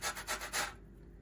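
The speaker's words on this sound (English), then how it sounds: "The box grater is a great tool." Box grater scraping in a kitchen, three quick rasping strokes in a row, close and fairly loud, then a quiet pause with no talk.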